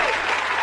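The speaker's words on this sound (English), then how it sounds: "Cue the applause" Short burst of steady applause from a crowd, dense and continuous, played as a sound effect on a podcast.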